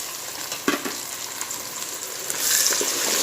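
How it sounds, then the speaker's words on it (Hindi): Tomatoes and onions fry in a pan for a fish biryani, giving a steady broadband sizzle with a few sharp crackles and spatters. The sizzle swells louder in the final second, and no one speaks. "टमाटर गलने तक मैं इसे प्याज के साथ तलूँगी"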